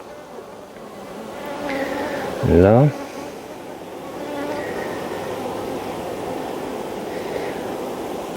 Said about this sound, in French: Et on secoue, commence à secouer toutes ces jeunes abeilles.